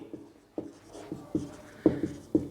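Pen or chalk writing in a classroom lesson, a series of short scratchy strokes and taps arriving in irregular bursts, close and moderately loud with no voices.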